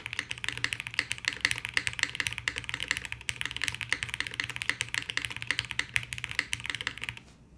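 Steady fast typing on a freshly assembled Bina 103 mechanical keyboard, a dense run of close, sharp clacks lasting several seconds before stopping, no voices.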